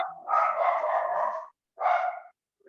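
Small dogs barking indoors, a quick run of yappy barks followed by a short second burst after a brief pause, fairly close and alone without talk.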